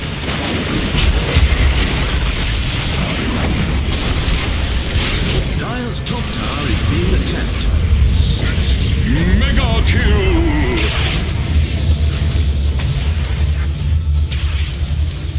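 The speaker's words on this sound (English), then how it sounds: "top tower is destroyed" Dota 2 tower destroyed during a siege, heard as a dense, continuous roar of booming explosions and battle effects, loud and sustained throughout with no clear pauses.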